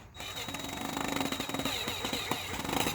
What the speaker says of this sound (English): Apply weight on the drill.